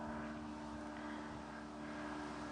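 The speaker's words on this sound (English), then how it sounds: "you might be able to hear that plane in the sky just to give you a little bit of background noise as well" A distant airplane passes high overhead as a steady, faint, broad drone that stays constant throughout.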